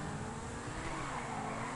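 A fast car in a GTA Online race drones steadily at close range, engine noise with a hint of tire squeal, loud and unbroken with no talk.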